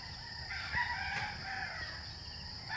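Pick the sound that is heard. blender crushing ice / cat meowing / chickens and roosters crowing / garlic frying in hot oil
chickens and roosters crowing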